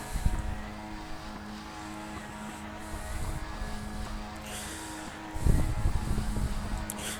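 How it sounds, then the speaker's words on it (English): Race car engines rev on the starting grid before a Skip Barber race at Zolder in the iRacing sim, a steady low mechanical drone with louder surges near the start and again after five seconds. "I can hear someone revving their car on the grid there"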